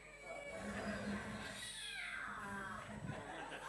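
A small cat or lion cub meows and mewls softly at close range, a drawn-out plaintive cry with faint background murmur beneath it.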